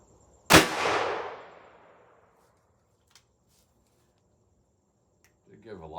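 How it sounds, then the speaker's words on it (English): A single sharp report from a Ruger GP100 .38 Special revolver with a 5-inch barrel, firing a Barnes 125-grain TAC-TX all-copper bullet into a gel block, cracks loud and close, then decays over about two seconds before a voice speaks. "Ruger GP100 5-inch barrel, shot number 3 with the Barnes 125 grain TAC-TX bullet"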